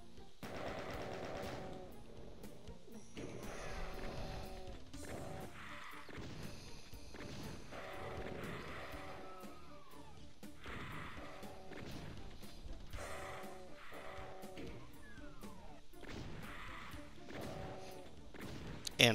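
A BFG fires at pain elementals in Doom II, with repeated heavy weapon blasts and crashing impacts recurring every second or two in a fairly quiet, steady barrage with no voices.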